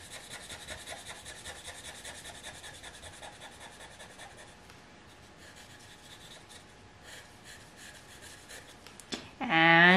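A pencil crayon or wax crayon colors on paper in quick, rhythmic scratchy strokes, close and fairly soft, pausing briefly before a short burst of another sound at the end.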